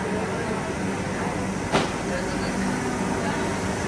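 Inside a Vande Bharat express train there is a steady, even rumble of the moving train, with one brief clack partway through and a voice talking over it.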